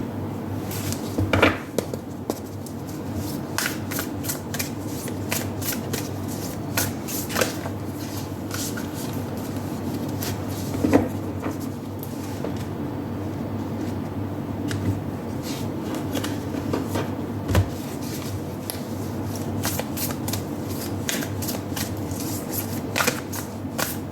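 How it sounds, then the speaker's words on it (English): A deck of tarot cards is shuffled in repeated soft riffles and flicks, close up and fairly quiet, with scattered sharper snaps over a low steady background hum. "Let me shuffle all the cards before we begin your reading"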